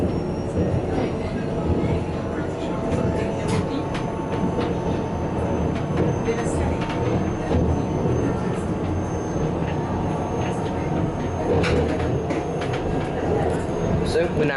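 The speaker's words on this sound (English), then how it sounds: "we're now on the second leg of our journey on this delightful little wooden train going up to Kleine-Scheidegg" A small wooden cogwheel train climbs from Lauterbrunnen toward Kleine-Scheidegg in Switzerland, its steady rumbling and rattling carriage noise running throughout with occasional clicks and squeaks, while passengers chat underneath.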